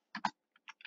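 A few sparse computer keyboard keystrokes click close and quiet, two quick taps followed by a handful of lighter presses, with silence between them.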